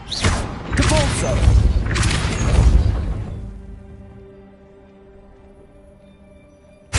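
A Depulso force spell cast in the video game Hogwarts Legacy, heard as loud booming whooshes and thuds over the first three seconds. A quieter mechanical hum follows, with a short hit at the very end.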